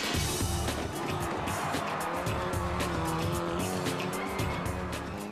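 Race cars driven backwards around a circuit in a wacky racing event: a steady, loud roar of several engines with tyre squeal and skidding woven through, continuous and close for the whole stretch.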